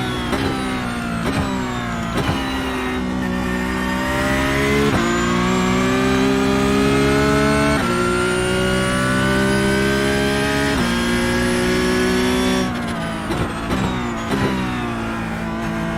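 Porsche Cup race car in iRacing at Bathurst, its engine droning loud and close as it revs up through the gears, with sharp drops at each upshift and steady high-rpm pulls between.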